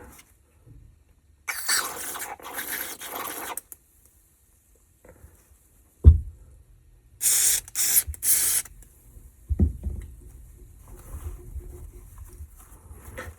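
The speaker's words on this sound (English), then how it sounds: "I'm gonna spray it out with some ballistol here." Several short hissing bursts of Ballistol gun oil sprayed from an aerosol into an SKS rifle, separated by quiet pauses and light handling knocks.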